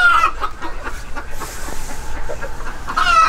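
A breeding flock of black mottled chickens, a rooster with three hens, clucks steadily and fairly close, with overlapping calls and a couple of sharper squawks rising above the continuous farmyard murmur.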